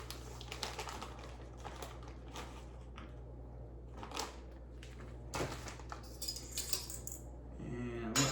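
Spoon stirring cacao powder and brown sugar into oatmeal in a bowl, quiet intermittent scrapes and clinks at close range, a sharper metallic clatter near the end.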